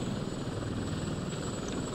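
Helicopter in the video game Prototype 2, a steady loud rotor and engine drone holding evenly throughout with no voices.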